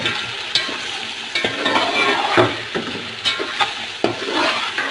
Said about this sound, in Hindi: अब मैं इसके अंदर साबुत सारा गरम मसाला ऐड कर देती हूँ।